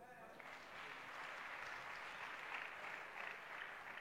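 A church congregation applauds with sustained clapping that swells and carries on at a steady density for several seconds. The sound is fairly quiet and diffuse, like a crowded room heard from a distance, and a voice can be heard under the clapping.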